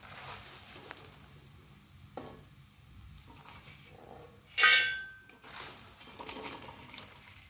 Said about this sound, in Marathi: डिंक पूर्ण तळून घेतलेले आहेत